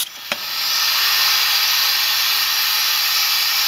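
A continuously variable transaxle rig shifts its pulleys toward overdrive, giving a steady loud mechanical whine and hiss that starts abruptly and holds constant throughout.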